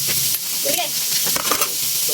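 Food frying in a pan, a constant bright sizzle and hiss with brief stirring scrapes and clinks, close and fairly loud, no voices.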